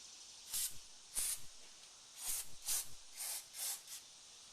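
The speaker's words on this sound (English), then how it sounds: "I can just spray a little bit of ether in there and see what happens" Short hissing spritzes of ether starting fluid sprayed into the engine of a 1988 Yamaha Radian motorcycle, about seven quick bursts in an irregular rhythm, close and fairly quiet, with no talking.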